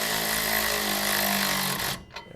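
A power ratchet tightening bolts in a garage gives a loud, sustained mechanical whir and rattle for about two seconds, then stops with a short clack and a faint trailing rattle.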